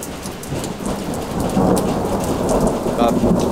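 A mountain thunderstorm pours heavy rain, a loud dense hiss of drops on surfaces with a low rolling rumble of thunder building underneath, and no voices.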